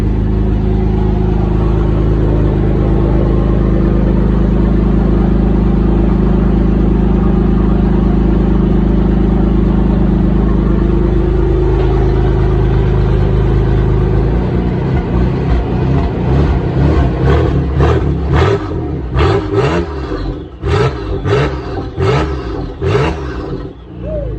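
A rally car engine at about 3,000 revs drones loud and close with a low, steady roar, then turns rougher and pulsing in the later half as revs fluctuate, with no talk over it.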